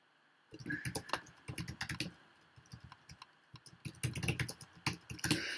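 Typing on a computer keyboard with presses of the return key, rapid close clicking bursts with short pauses between runs of keystrokes.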